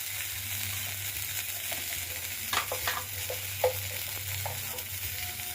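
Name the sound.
spice paste frying and being stirred in pan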